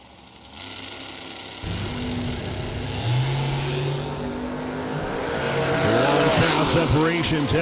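A 1987 Camaro drag racing car launches at a drag strip, its engine roar swelling loud and climbing in pitch as it pulls away, mixed with another car's noise and a commentator's voice over the track.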